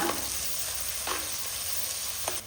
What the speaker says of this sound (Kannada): ಎಣ್ಣೆ ಸ್ವಲ್ಪ ಜಾಸ್ತಿಯಾಗಿ ಹಾಕಬೇಕು ಈಗ ಸ್ವಲ್ಪ ಕರಿಬೇವು ಕೂಡ ಹಾಕಿಯೇ ಫ್ರೈ ಮಾಡುವ